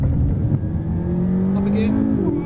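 A McLaren MP4 sports car engine revs up steadily, its pitch rising as it accelerates on a test track, with a voice speaking faintly over the motor.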